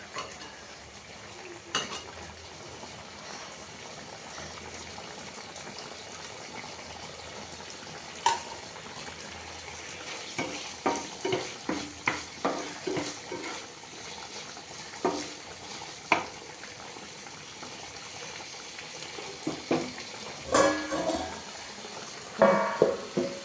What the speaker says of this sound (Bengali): ঝোলটা আরেকটু ফুটুক